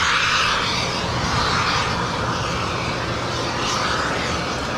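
China Airlines Cargo Boeing 777 touching down on runway 25 left at LAX, a loud continuous roar of jet engines and rushing air, steady and fairly near throughout.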